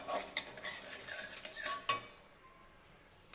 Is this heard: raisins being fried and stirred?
yes